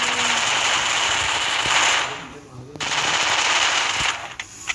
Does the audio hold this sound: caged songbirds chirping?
no